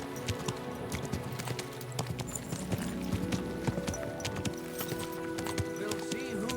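Horse hooves clip-clop in a steady gait in the medieval open-world game Kingdom Come Deliverance 2, with a brief whinny, mixed with game ambience and soft music; someone speaks over it.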